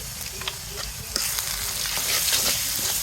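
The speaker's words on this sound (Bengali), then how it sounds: "এবার আমি ভালোভাবে মশলাটা কষিয়ে নেব যেন মশলার কাঁচা গন্ধটা না থাকে" Ginger, garlic and cumin paste with salt, chili powder and turmeric fry in oil for a beef tripe curry, with a continuous close sizzle and repeated stirring scrapes that grow louder toward the end.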